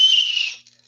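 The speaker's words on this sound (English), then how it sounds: "We can blow our whistle" A hiking whistle blown in one loud, steady, shrill blast that lasts about half a second and then cuts off, with nothing else around it.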